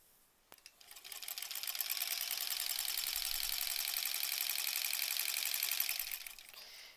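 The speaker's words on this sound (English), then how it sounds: "We got to sew all these pieces together yet." A sewing machine stitches quilt block pieces together, its rapid steady hum running continuously for about five seconds after a brief start, close and fairly quiet, with no talking.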